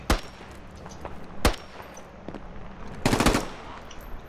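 Gunfire in the video game Squad: a few sharp, loud single shots spaced apart, then a brief rapid burst, with faint background noise between.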